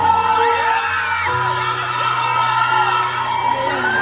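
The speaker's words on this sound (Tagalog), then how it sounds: "Bakit mas malakas yung sigawan nyo sa kanila?" A concert crowd at the Sarung Banggi Festival 2024 yells and whoops loudly and continuously, with stage music tones running underneath the steady shouting.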